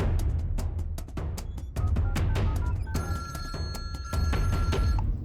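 A telephone rings during a tense scene in a Hindi-dubbed South Indian action film, its repeated electronic tone sustained over heavy dramatic music with booming percussive hits.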